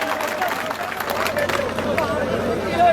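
At a political rally in Nethrana, a crowd claps to welcome Minu Beniwal and other guests. Steady, moderately loud applause blends with crowd murmur and hubbub for the whole stretch.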